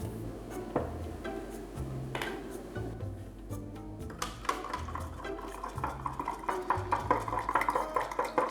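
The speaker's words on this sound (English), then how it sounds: "This time I'm using a regular cup, and I'll stir it with a spoon." A metal spoon stirs whey protein powder into water in a regular cup, clinking and scraping against the sides in quick, irregular strokes that grow busier toward the end, close and moderately quiet.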